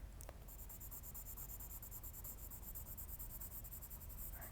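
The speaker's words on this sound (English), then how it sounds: "when I color, sometimes I go up and down like this with my pencil" Colored pencil scratching on paper as someone colors a sea shell drawing, a steady soft scraping with back-and-forth strokes, continuous and close.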